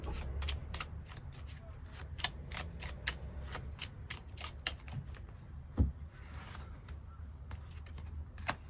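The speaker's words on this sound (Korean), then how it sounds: "추가 카드 뽑아보도록 하겠습니다." Tarot cards shuffled and drawn at a reading, a long close run of quick, rhythmic riffling flicks, with a soft thump partway through and a voice talking quietly underneath.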